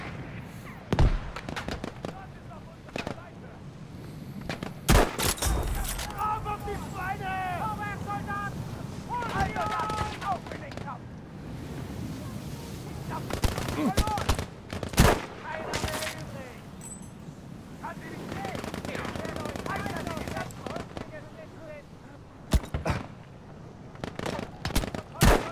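Shotgun blasts in a first-person shooter video game, loud sharp cracks spaced irregularly across the stretch, with game effects and background noise in between.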